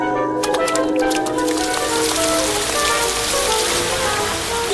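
Steady rain pattering on a hard surface in an animated cartoon, dense and continuous, with a few brighter drips and faint tonal sounds in the background.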